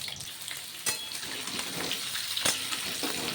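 Potatoes frying in hot oil in a pan for aloo dum, a steady close sizzle with a couple of sharp crackling spikes along the way.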